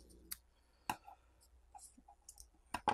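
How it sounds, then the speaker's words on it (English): Small wire cutters snip through a component lead while a racing drone is being built, giving a few sharp, close clicks spaced across a quiet background with no talking. "Let me cut it about in the middle"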